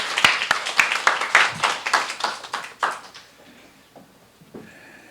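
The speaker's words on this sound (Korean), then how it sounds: "우리 박수로 한번 환영해 주시기 바랍니다" Church congregation clapping together to welcome the pastor to the pulpit, a brisk burst of crowd applause that thins out and fades to a few scattered claps within seconds.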